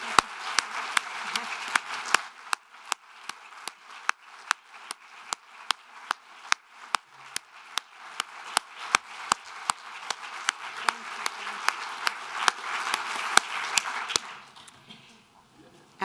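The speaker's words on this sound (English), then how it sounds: "giving just a huge standing, stamping applause for the fabulous six people who've been here" A tribute audience gives a standing ovation with stamping, steady soft clapping under a regular series of loud, sharp thuds, like feet or hands striking, repeating roughly every half second for about fourteen seconds before fading away.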